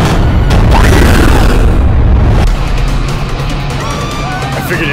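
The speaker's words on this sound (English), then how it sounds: "Someone blew up their boat." A boat blows up in a creature-feature movie trailer about giant piranha, a loud deep boom with rolling rumble that fills the opening seconds and then decays into a lower, sustained roar.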